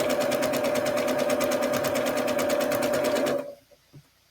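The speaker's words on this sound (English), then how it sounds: "I usually start sewing from the center of my base out to the corner. That way my machine doesn't eat up my corner." A sewing machine stitches quilt block pieces, running in a steady, rapid, even rhythm for about three seconds before stopping, close and clear with no talk.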